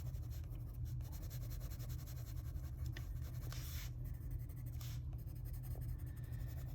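Colored pencil shading very lightly on paper to blend a darker gray layer, a faint, steady soft scratching with a few brief stronger strokes, heard alone over a low background hum.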